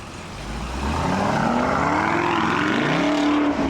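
A 2023 Alpina XB7 Manufaktur SUV engine rumbles and rises as it pulls away, loud and close, with a steady exhaust drone building over a few seconds.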